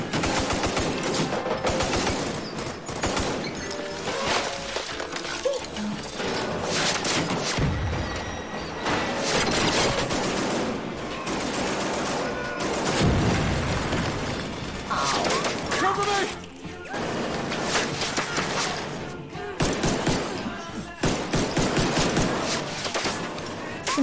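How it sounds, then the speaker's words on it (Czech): Rapid bursts of automatic gunfire in the video game The Division 2 rattle almost nonstop, with booms and thuds mixed in, loud and busy throughout with no pauses. "Takhle zmateně střílí, ani neví kam."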